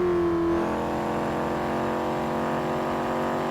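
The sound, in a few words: V8 engine downshifting, C7 Corvette in GTA V video game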